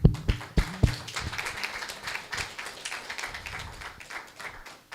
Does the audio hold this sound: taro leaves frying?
no